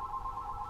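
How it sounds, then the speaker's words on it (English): A telephone rings in a home in the morning, a steady electronic tone held throughout, heard fairly close and fairly quiet with no talking over it. "Phone ringing at this time of the morning."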